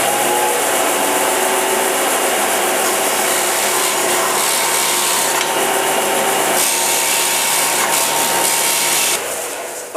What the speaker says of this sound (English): I'm going to go over to the sander and we'll see if we can get these pieces sanded up